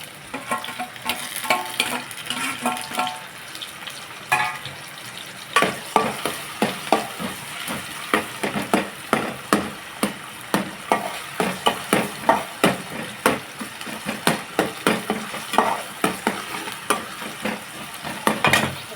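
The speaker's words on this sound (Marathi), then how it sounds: "कांदा थोडा लाल झाला आता टॅमॅटो घालूया" Onion and tomato frying in a pan for a brinjal and black-eyed pea curry, a steady close sizzle with rapid, rhythmic spatula strikes and scrapes growing more regular after the first few seconds, no voices.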